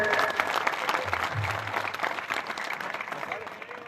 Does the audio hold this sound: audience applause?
yes